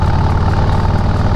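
A Harley-Davidson FXDR custom motorcycle cruises in sixth gear at 2,000 rpm, about 57 mph: a steady, low engine drone holding an even pitch throughout, loud and close, with no change in speed.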